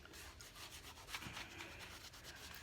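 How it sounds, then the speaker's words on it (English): Wet Dina Wakley Scribble Sticks pigment rubbed across a journal page makes a steady, soft scratchy friction, continuous and close, with no talking. "all you do is you rub it and it activates them"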